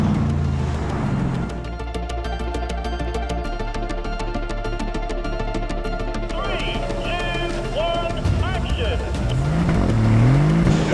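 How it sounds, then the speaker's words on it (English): Pre-war Bentley heritage cars driving down a road, their engines droning and revving as they pass close by, with people talking over the engine noise. "Behind us we've got our pre-war heritage fleet, and we're going to be driving these guys down the road past Travis"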